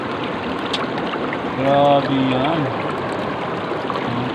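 River water at Tignoan flows in a steady, close rushing wash, with a voice speaking briefly over it partway through.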